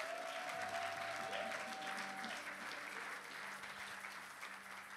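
A church congregation claps together in sustained applause, a dense, fairly distant wash of hands that slowly fades, with a faint voice briefly underneath.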